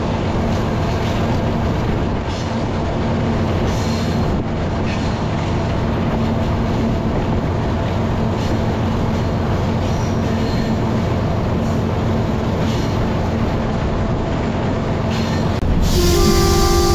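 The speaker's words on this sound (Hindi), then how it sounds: "बरडेर रेलवे स्टेशन पे इस टाइम हम इंटर हो रहे हैं, और ट्रेन जो है वो लूप लाइन पे डाइवर्ट हो गई है" A Pakistan Railways train heard from the locomotive cab as it enters a station and is diverted onto a loop line, with a continuous loud rumble of wheels and engine and a brief shift in tone near the end.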